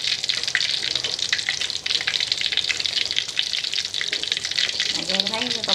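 Fish cakes fry in a pan with a dense, steady sizzle and crackle of hot oil throughout, a faint voice murmuring briefly near the end.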